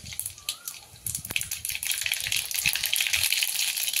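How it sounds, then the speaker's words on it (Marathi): Mustard seeds splutter and crackle in hot oil in a pan for a traditional Maharashtrian cluster-bean dish, a dense, steady close-up sizzle with rapid popping that builds and holds, no voices. "मोहरी तडतडलं की जिरं घालूया."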